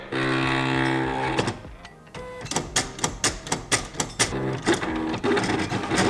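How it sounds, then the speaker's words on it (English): An inkjet printer runs off a mirrored iron-on heat transfer design: a steady mechanical whir gives way to a rapid series of rhythmic clicks and carriage strokes, close and clear. "it's getting ready to send it to the printer"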